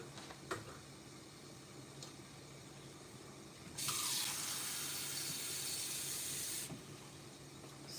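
Tap water gushes steadily for about three seconds while filling for cooking meat, a loud broad hiss that starts abruptly and cuts off, with faint kitchen clinks before it.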